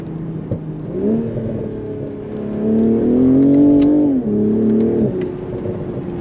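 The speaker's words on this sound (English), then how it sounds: "that B58 just sounds so pure every time you drive it" BMW B58 straight-six revving as the car accelerates, a loud, smooth engine note that climbs through the gears, briefly drops at a shift, then rises again, recorded from inside the cabin.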